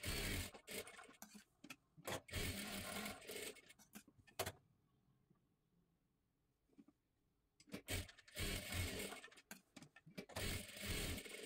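A sewing machine runs double stitching along a blouse seam in two close bursts of rapid mechanical stitching, separated by a quiet pause of several seconds.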